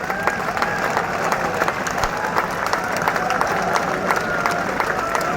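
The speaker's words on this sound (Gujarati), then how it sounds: "જોરદાર બે હાથ ઊંચા રાખી તાળીઓ પાડો." A dense crowd claps and cheers at a political rally, a steady, loud wall of applause with sharp individual claps poking through and no letup across the few seconds.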